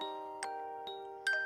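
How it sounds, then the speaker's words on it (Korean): A castle clock tower bell rings out with sustained metallic tones, several soft strikes layered over a lingering hum, fairly faint and gentle. "땡 하는 종소리를 울렸어요"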